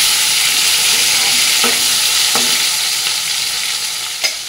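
A large tomato drops into hot oil already frying cumin, dried chilli and asafoetida, giving a loud continuous sizzle with a few sharp stirring clacks from a utensil on the pan.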